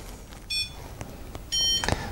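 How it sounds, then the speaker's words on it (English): A Compex wireless muscle stimulator gives two clear electronic beeps, each a short steady tone about a second apart, close and distinct over quiet background noise. "you hear the beep very clearly"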